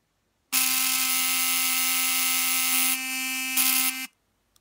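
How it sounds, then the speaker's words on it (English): Sonicare electric toothbrush switched on, a loud steady high-pitched buzzing hum running for about three and a half seconds, briefly shifting in tone near the end before cutting off into silence. "it's the Sonishare, and it's a great little replaceable toothbrush"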